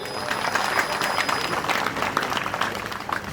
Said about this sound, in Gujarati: આવા યુવાનો અને તાળીઓના ગગડાટથી વધાવવા જોઈએ.